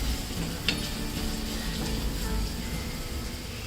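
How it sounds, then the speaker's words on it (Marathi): Chopped onion sautéing in hot oil with asafoetida in a pan, a soft continuous sizzle with faint crackles and one light utensil tap, close and steady with no voice. "कांदा तुम्ही थोडा गुलाबी होईपर्यंत चांगला परतून घ्या"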